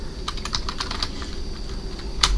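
Code is typed on a computer keyboard in quick irregular bursts of close, crisp key clicks over a steady background hum.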